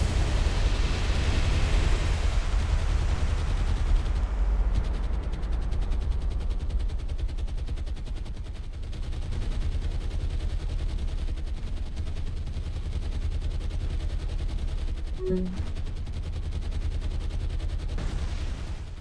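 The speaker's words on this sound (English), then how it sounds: "Look at those machine guns." Aircraft machine guns in the game War on the Sea rattle in a loud, sustained stream of rapid fire that runs the full length. The dense roar eases slightly partway through but never stops.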